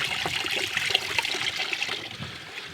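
A spring spilling over a small natural waterfall outdoors, a close, steady splashing trickle with a bright, bubbling texture and no voices.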